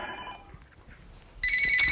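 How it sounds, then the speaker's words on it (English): A telephone starts ringing abruptly near the end, a bright electronic trill that is loud and close. Before it, only a faint tone and quiet room noise. "I apologize for the phone ringing"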